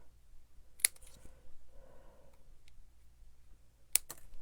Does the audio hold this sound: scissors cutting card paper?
yes